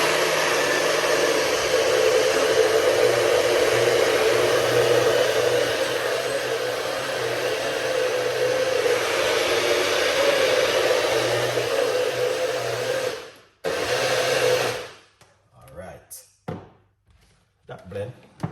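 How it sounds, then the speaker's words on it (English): A blender whirs loudly and steadily while blending cucumber juice for about thirteen seconds, then cuts off and is followed by a few scattered clunks and knocks. "We're just gonna take it to a blend."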